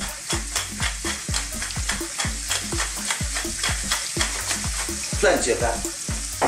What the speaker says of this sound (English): Now I just want to fry this for about another 60 to